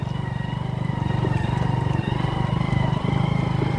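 A motorcycle rides off-road near the Kapilvastu view point in Nepal, its engine a steady, close, continuous rumble with a slightly pulsing beat throughout and no talk.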